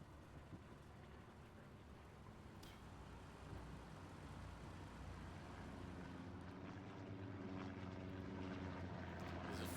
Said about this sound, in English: Recon plane going in.